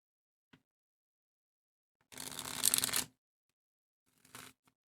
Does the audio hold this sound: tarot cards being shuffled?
yes